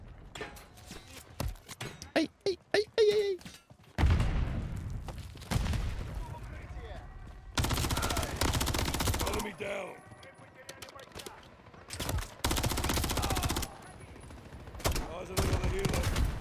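Gunfire in the video game Call of Duty: Modern Warfare III campaign, loud bursts of automatic fire and single shots in irregular clusters, close and harsh, with a voice speaking between volleys.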